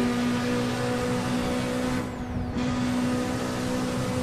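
A turbocharged 800 hp K24-swapped Honda Civic EG6 in a highway traffic racing game drones loudly and steadily at high revs, with a brief dip around a gear change before the engine note resumes.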